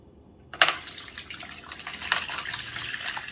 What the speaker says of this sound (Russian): вот так вот уложили и заливаем маринадом